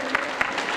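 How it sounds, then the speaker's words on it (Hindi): Brief applause from an audience at a devotional bhakti program, a short burst of clapping with a couple of sharper claps over a room wash. "ताली बजाइए, ताली बजाइए,"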